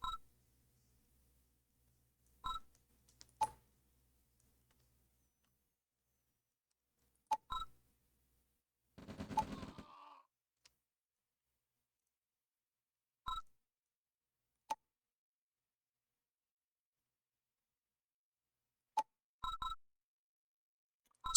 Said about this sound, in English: Spectator chat, if you can hear that beeping.